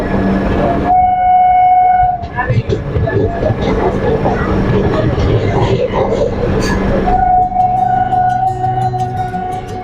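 A train rolls past beside a halted express on the Kolkata to Agra route, heard up close from aboard the stopped train. Loud rumbling and clattering fill the middle, with a sustained tonal whine at the start and end.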